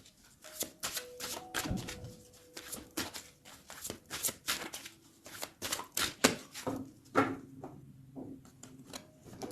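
Tarot cards being shuffled and cut in quick, irregular bursts of papery riffling and soft slaps, close and fairly quiet, with a few faint tonal hums in the background.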